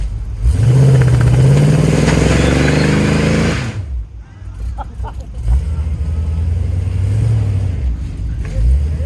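A 1978 Buick Regal engine fitted with headers revs hard and loud for about three seconds, then drops to a rough, rumbling idle that carries on as people talk close by.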